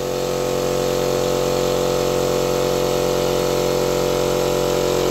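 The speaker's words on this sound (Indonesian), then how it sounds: "Nah, ini suara Multipro yang pakai oli, teman-teman." A Multipro oil-lubricated air compressor rated at 850 watts runs with a loud, constant mechanical drone and hum, unbroken and alone for the whole stretch.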